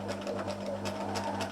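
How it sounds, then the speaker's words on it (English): A sewing machine back-stitching through fabric for a faux candle cover, with a steady close mechanical whir and rhythmic pulsing of the needle. "So let's just do a back stitch."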